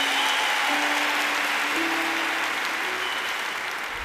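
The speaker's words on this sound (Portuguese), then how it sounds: "Um forte aplauso para meu pai" A church congregation gives loud, sustained applause for a pastor, dense clapping filling the room from start to finish and tapering slightly near the end, with no voices over it.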